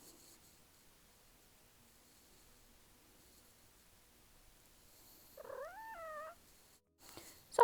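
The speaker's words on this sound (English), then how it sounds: "that was my cat Thomas saying hello" A pet cat gives one short, rising and falling meow near the end of a long quiet stretch in an indoor room, followed by a brief handling noise.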